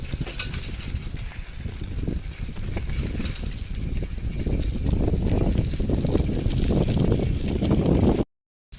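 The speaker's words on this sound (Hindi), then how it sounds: "पूरा बिना पेडल मारे ही चला जा रहा है KTM मेरा।" A KTM bicycle coasts without pedalling along a rough village road in Assam, giving a steady low rumble of tyres and rattle mixed with wind buffeting the microphone, building slightly before cutting off abruptly.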